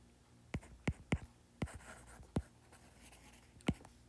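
A pen writes on paper during a physics lesson, giving half a dozen short, sharp scratches and taps at uneven intervals. The sound is close and quiet against a faint room hum, with no talking.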